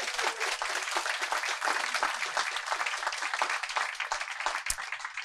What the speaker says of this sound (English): We can have some applause.